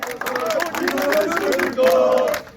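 Sakaryaspor football supporters chant together, a loud chorus of voices rising and falling in a rhythmic, sung cheer, close to the microphone with crowd noise around it.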